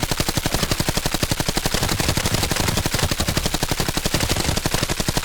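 A rifle loaded with M855 rounds fires in the shooter game Arena Breakout Infinite: a loud, continuous burst of rapid automatic shots at an even, fast rhythm, with no voices.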